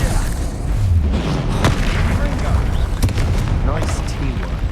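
A Confringo spell blasts in the video game Hogwarts Legacy, a loud booming explosion with rumbling debris and further crackling impacts over several seconds, with voices briefly heard amid the noise.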